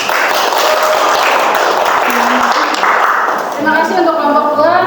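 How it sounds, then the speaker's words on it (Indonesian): Students in a classroom applaud a presenting group, a loud, close, continuous patter of many hands, with voices and murmuring rising over the clapping toward the end. "Berikan tepuk tangan."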